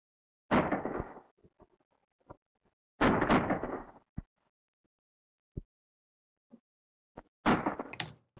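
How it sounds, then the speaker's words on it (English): Isolated gunshot effects from a film soundtrack: three heavy, booming shots with short decaying tails, spaced a few seconds apart, with faint clicks and knocks between them in otherwise near silence. "let's listen to the effects, which were those gunshots."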